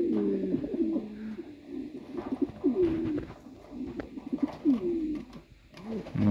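Pigeons coo repeatedly, with overlapping low, throaty calls from several birds close by, including newly arrived males, with no talk.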